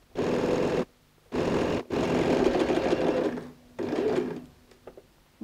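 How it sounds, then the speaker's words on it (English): A sewing machine stitches binding onto pocket fabric for a quilted toiletry bag, running in several close, steady bursts separated by short pauses. "go and sew the binding onto the fabric"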